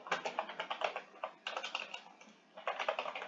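Rapid typing on a computer keyboard, close and fairly quiet, in three bursts of clustered key clicks separated by short pauses, with no voices.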